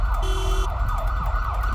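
An Australian ambulance siren wails in steady rising-and-falling sweeps while the vehicle drives lights and sirens to a high-risk overdose call, loud and continuous over low road and engine rumble.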